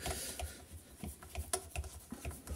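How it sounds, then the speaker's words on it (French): A screw is driven in during repair of a Stihl HS75 hedge trimmer, making a quiet, irregular run of small clicks and ratcheting ticks close at hand. "c'est pas ce qu'il y a de plus passionnant de regarder quelqu'un visser une vis"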